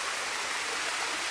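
A garden waterfall pours in a steady, dense roar of falling water. The broadband wash stays close and constant throughout, with no other sounds.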